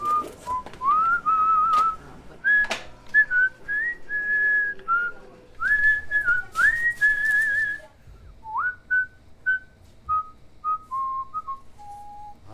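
A man whistles a wandering tune close up in a bakery, a series of clear, sliding notes in short phrases with brief pauses, the pitch rising and falling, and no one speaking.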